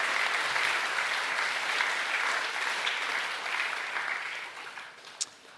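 A round of applause from an audience at a school co-curricular awards ceremony, dense and sustained, gradually thinning and fading toward the end, with one sharp clap near the close.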